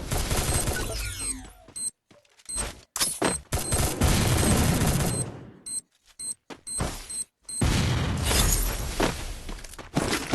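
A grenade explosion and rapid gunfire in the Free Fire battle royale game, loud bursts of shots and blasts broken by abrupt silent gaps.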